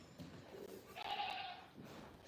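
Goats on a farm bleat in a drawn-out, wavering call that stands clear and fairly close over a quiet background, with a softer animal sound just before it.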